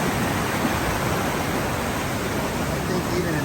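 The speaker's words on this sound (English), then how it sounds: "what a beautiful sound" A waterfall on a river pours in a continuous, dense rushing hiss, steady and fairly loud, with no voices over it.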